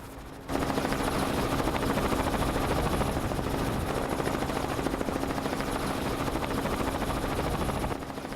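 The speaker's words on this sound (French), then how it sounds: "Christian Pérez décide d'envoyer l'hélicoptère de la gendarmerie pour élitreiller le jeune en difficulté." A gendarmerie helicopter flies a rescue mission during the Transcaledonian 2014 race, its rotor and engine droning loud and steady, close by, without pause and with no voices.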